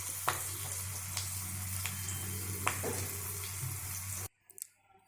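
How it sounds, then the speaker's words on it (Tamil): Tempering poured into ven pongal and stirred, steady sizzling with a low hum and several sharp scraping ticks, close and moderate, then cutting abruptly to near silence with a few faint soft squishes. "இதை எடுத்து அந்த தாளிப்புகளை எடுத்து நம்ம பொங்கலில் கொட்டிட்டு கிண்ட வேண்டியது தான்."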